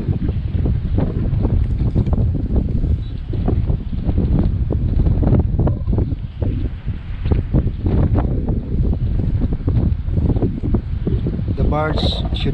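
Wind buffets the microphone over rough water as a vessel passes near a barge during expressway bridge construction at sea in Cebu, a steady loud roar of wind and churning waves throughout.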